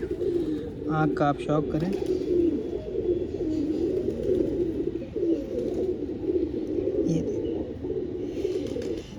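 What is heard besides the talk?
pigeon cooing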